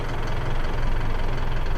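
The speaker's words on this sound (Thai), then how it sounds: "ให้ฟังเสียงเครื่องยนต์นะแต่ละคัน" A diesel engine in a small, low six-wheel 2015 NMR 3.0 cargo truck runs steadily at idle, a close, continuous low rumble with a faint knocking pulse and no talk.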